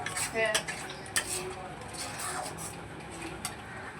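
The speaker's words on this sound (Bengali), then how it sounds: "আরও কিছুক্ষণের জন্য আমি মশলাটাকে নেড়ে নেব।" Utensil scraping and stirring spice paste in a metal pan, with several sharp clinks near the start and then quieter rubbing strokes, close by and fairly faint.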